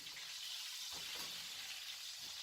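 A chicken breast sears in a pan for authentic Cajun jambalaya, giving a continuous close, bright sizzle with a few soft stirring or shifting sounds.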